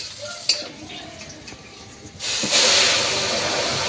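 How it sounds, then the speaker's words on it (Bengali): Dal poured into a hot tempering of green chilli, bay leaf and onion, setting off a loud, sustained sizzling hiss that starts abruptly after a quiet stretch and carries on close by. "কাঁচা লঙ্কা তেজপাতা পেঁয়াজ ফোড়ন দিয়ে দিয়েছি এবার কিন্তু ডালটা ঢেলে দেবো"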